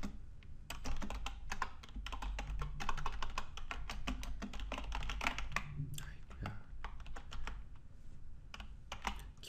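Rapid keyboard typing clatters close by in bursts of keystrokes, with a few brief pauses and no one speaking.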